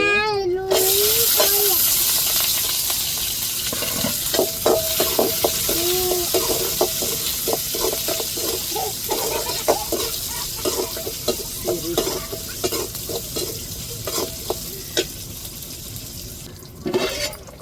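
Dried red chillies frying and stirred in a pan, a continuous sizzle broken by repeated scraping, clinking strokes of a spoon, with a voice briefly talking at the start.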